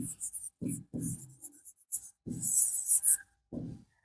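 A pen scratches across paper in quick, close strokes while an answer is written out by hand during an English grammar lesson, with brief pauses between words.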